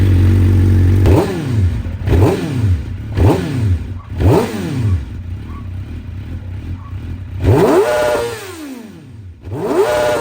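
Track motorcycle engine starting and warming up, heard close and loud as a series of sharp revs that rise and fall repeatedly, separated by rough idling and a short lull before more blips.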